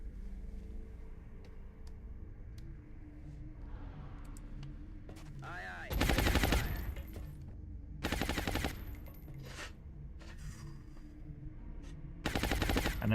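Video game gunfire laying down suppressing fire at an enemy sniper: three bursts of loud, dense automatic shots, each lasting about a second or two, over a steady background hum with scattered clicks.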